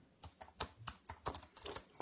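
Computer keyboard typing in short bursts of clustered keystrokes, near and crisp, with brief pauses between words and no talking.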